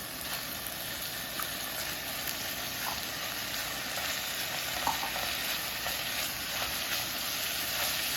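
Onions and garlic fry in a pan for gravy with a dense, even sizzle that runs throughout, close and steady, with faint stirring scrapes now and then.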